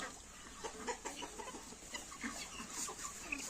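Several chickens, including Marans and Leghorn-type breeds, cluck softly and continuously in a farmyard, a scattered chorus of short calls over a steady background hum.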